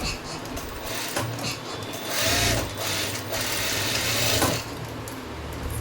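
A sewing machine stitches a neck design on fabric backed with canvas, running in a steady continuous whir with slight speed changes throughout, close and alone without talk.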